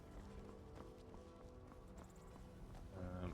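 Horse hooves clip-clopping in Skyrim, a rhythmic trotting patter at moderate distance, faint and continuous under game ambience, with no talk.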